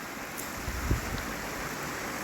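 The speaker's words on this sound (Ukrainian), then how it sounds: "вода спливає вниз" Water of a small stream flows downhill outdoors in a cold spring landscape, a steady broadband rushing wash with light wind buffeting, even and continuous, without speech.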